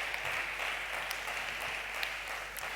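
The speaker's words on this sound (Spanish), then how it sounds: "Dale un aplauso al Rey." A church congregation applauds during a sermon, producing a sustained, even roar of many hands clapping, steady and fairly distant, with a few sharper claps popping out and no voices on top.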